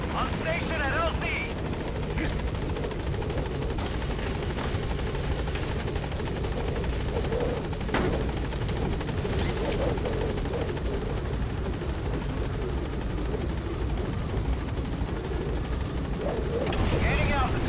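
Support helicopter arriving at a landing zone in the Metal Gear Solid V video game, a loud continuous rotor thrum close by throughout, with radio voices talking over it.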